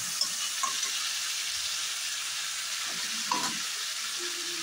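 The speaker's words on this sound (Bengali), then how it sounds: "এখানে আমি আলু কেটে দেবো। ভেজে নেব।" Four cut potatoes fry in oil with chilli powder and turmeric, giving a steady bright sizzle up close, with a few soft knocks and stirs in the pan and no speech.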